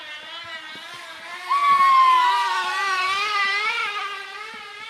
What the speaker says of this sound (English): Those are like pedal bikes with like a motor sound.